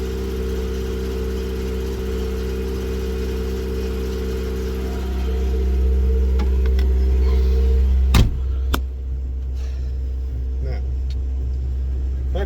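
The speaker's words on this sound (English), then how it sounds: "So there, we're spinning a wheel." Car wheel spinning on a vehicle with rusted clutch plates, heard as a steady low engine-like rumble and hum that swells midway, with a couple of sharp clicks near the end.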